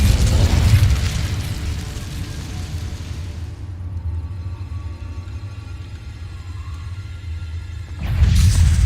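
The Incendio fire spell cast in Hogwarts Legacy, a heavy booming whoosh of fire bursting loudly at the start, fading into a low rumble, then another burst swelling near the end.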